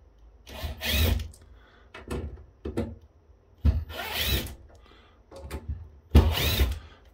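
A screwdriver with a swapped bit works screws out of a Palo Alto Networks PA-5060 enterprise firewall during a teardown, giving three bursts of close, gritty turning with short pauses between.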